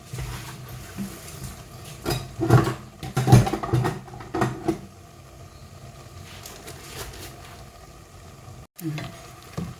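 Pork offal (heart and kidney) fries in a pan with basil and betel leaves, sizzling steadily while a utensil scrapes and stirs in short bursts, with faint background noise.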